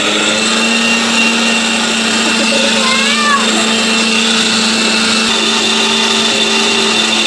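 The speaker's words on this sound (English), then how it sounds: "So now we'll start grinding it, and I'll show you the powder form of the biscuits" A mixer grinder with a steel jar whirs steadily at high speed while grinding biscuits into powder, a loud, continuous motor whine with a brief rattling shift partway through.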